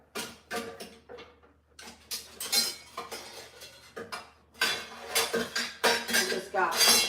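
Metal pots, pans and cutlery clattering and clinking in a kitchen during a rummage for a pasta strainer, with bursts of louder rattling separated by brief lulls, fairly close.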